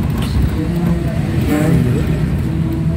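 A car moving slowly in second gear during a driving lesson, with a steady low engine hum and road noise throughout and a slight rise in engine note midway, close and continuous.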